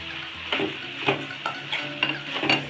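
Chili and coriander powder frying in a hot pan with mushrooms for a masala curry, a steady sizzle broken by rhythmic stirring scrapes roughly every half second, close and clear.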